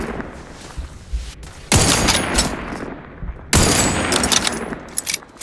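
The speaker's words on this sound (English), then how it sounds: "It's a sniper rifle" Sniper rifle fire in the video game The Outer Worlds 2: two loud, sharp shots a couple of seconds apart, each with a booming tail that rings out and fades.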